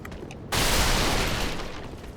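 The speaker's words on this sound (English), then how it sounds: "Fire bombs." Fire bombs exploding in the video game Dark Souls 3 at the High Walls of Lothric: a sudden loud burst after a quiet moment, then a dense roaring, crackling wash that fades slowly.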